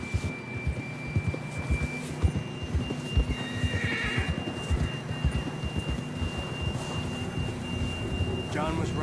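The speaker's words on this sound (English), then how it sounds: "John was riding that horse when we left Blackwater." A horse whinnies amid a steady patter of hoofbeats in Red Dead Redemption 2 on PS4, with soft game-like background ambience and a faint hum.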